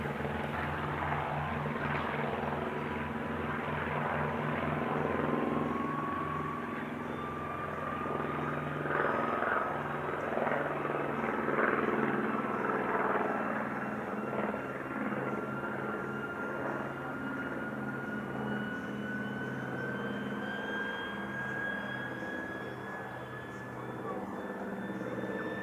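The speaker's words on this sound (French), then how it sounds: "Et dans le ciel dès à présent, un avion, le Corsair" An F4U-5N Corsair propeller fighter flies over the Paris Air Show at Le Bourget, a sustained distant engine drone with a slowly rising pitch and steady rumble, under a public-address voice.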